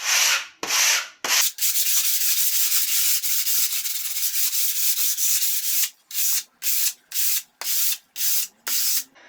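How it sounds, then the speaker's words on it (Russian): Fine 150-grit sandpaper rubs over dried filler putty, first in a long continuous scratchy stretch, then in short rhythmic back-and-forth strokes with brief pauses, close and clear. "После того, как шпаклевка засохла, мелкой шкурочкой, где-то 150-м зерном, снимаем все острые элементы"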